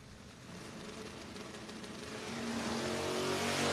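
A Chevelle no-box drag racing car idles and builds, its engine rumble rising steadily into a loud, rough revving roar near the end, heard at a drag strip without clear talk over it.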